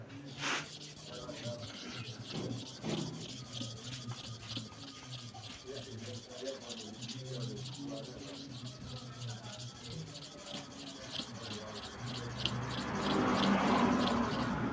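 Sharpening strokes to and fro with light pressure on the other side of a blade, a steady rubbing and scraping rhythm that continues throughout and grows a little louder near the end.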